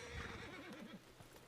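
A horse in the western video game Red Dead Redemption (RedM) gives a fairly faint whinny with a wavering, shaky pitch, with a soft hoof clop at the end.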